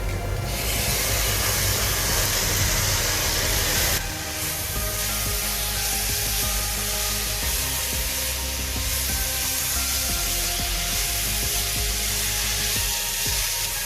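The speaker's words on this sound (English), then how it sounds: "Continue roasting this until the tomatoes get nice and mushy" Finely chopped tomato sizzling as it roasts in a pan for Anglo-Indian railway mutton curry, a loud continuous close hiss of frying that eases slightly after the start.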